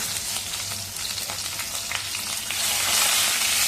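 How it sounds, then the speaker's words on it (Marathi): Eggplant pieces sizzle and crackle in hot oil in a pan, a close, steady frying hiss that grows louder near the end. "आता आपल्याला तेलामध्ये वांगी चांगली चॉकलेटी रंगावरती परतवून घ्यायची"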